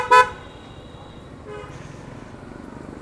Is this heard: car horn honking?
yes